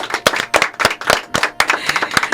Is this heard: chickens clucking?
no